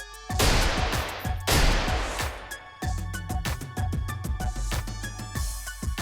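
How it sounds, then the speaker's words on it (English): Guns fire at a shooting gallery in rapid loud bursts and rattling strings of shots, close and forceful, with brief pauses between volleys. "Frank Kane took her out to shooting galleries."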